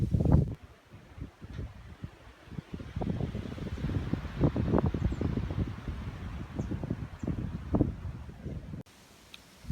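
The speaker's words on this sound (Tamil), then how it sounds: "நீங்கள் சரியான காற்று வீசி கொண்டிருக்குது" Strong wind after Cyclone Burevi in a Sri Lankan village, buffeting the microphone in uneven low rumbling gusts for about nine seconds before cutting out abruptly.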